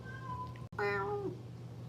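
A cat meows once, a clear, fairly loud drawn-out call right after a brief pause, with a softer tonal sound just before it over a low steady hum.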